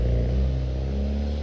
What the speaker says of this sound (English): That's a really dumb car. It's very loud.